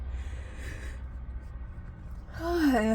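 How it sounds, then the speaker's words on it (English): A person yawning up close, a quiet breathy stretch that opens into a loud voiced yawn with a falling, drawn-out tone near the end. "Sorry about the yawning again."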